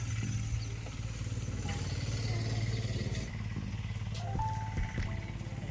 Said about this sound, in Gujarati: જો મિત્રો ટ્રેક્ટર પણ ચાલુ છે